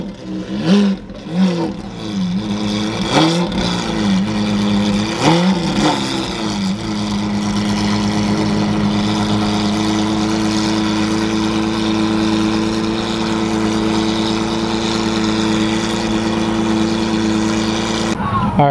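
V12 Lamborghini engine at a muscle car meet, several sharp revs blipping up and down early on, then settling into a loud, steady idle drone, with people talking nearby.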